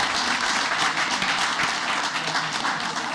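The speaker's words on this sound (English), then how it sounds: "Let's give one more round of applause to our Pride winners from Lakewood Creek Elementary School." Steady applause from an audience at a school board meeting honoring elementary school award winners, a continuous wash of clapping at moderate level with no talk over it.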